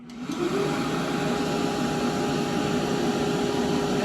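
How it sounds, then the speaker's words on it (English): A pet dryer blows steadily on a yellow-collared female puppy at a grooming drying table, a continuous close, loud whooshing roar that starts abruptly and holds even throughout. "Let's see how she does under the dryer."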